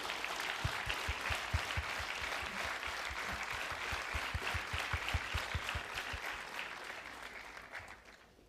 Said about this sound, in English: Let's show our appreciation with a round of applause that resonates with the respect they deserve.